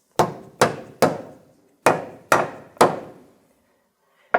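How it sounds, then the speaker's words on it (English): A mallet strikes metal six times while seating a control arm on a 2007-2017 Jeep Compass, sharp, loud knocks in uneven pairs with short ringing decays, close by and with no talking. "And then I can take my mallet and give it a good couple of hits."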